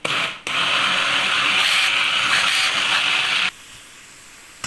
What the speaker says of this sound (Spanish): lo vamos a triturar y lo vamos a moler muy, muy, muy finito